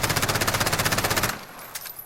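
Rapid automatic fire from an MP5 submachine gun in Call of Duty Modern Warfare, a steady close burst of evenly spaced shots lasting just over a second, then falling quiet.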